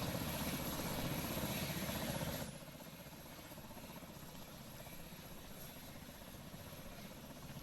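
A helicopter in the Roblox game Pilot Training Flight Simulator hums with a steady rotor and engine drone. The sound drops abruptly in level partway through, then continues evenly with no talk.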